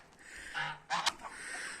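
A couple of goose honks ring out nearby, short nasal calls over a quiet village farmyard background with chickens, in early winter.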